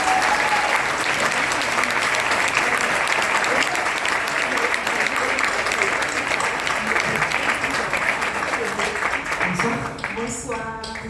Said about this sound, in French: sous un tonnerre d'applaudissements, merci d'accueillir Bagal Kassi